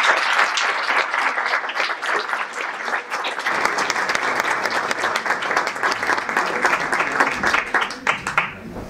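An audience at a Danish-Turkish poetry evening applauds warmly, a dense, steady wash of clapping sustained for several seconds before tapering off at the end.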